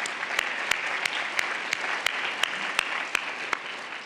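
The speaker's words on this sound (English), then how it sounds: "I think that's another one that deserves a round of applause." A room of attendees at a health event breaks into steady applause, a dense wash of clapping with a few sharper, regularly spaced claps standing out, moderately loud throughout.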